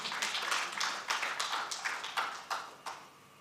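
Sparse, faint applause from a business conference audience: a dozen or so distinct claps in an uneven rhythm, thin and distant in a quiet hall.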